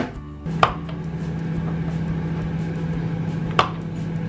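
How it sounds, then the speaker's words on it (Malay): Knife cutting bread for chocolate marshmallow French toast, with a couple of sharp slicing strokes near the start and end over a steady background hum. "jadi sekarang mau potong roti"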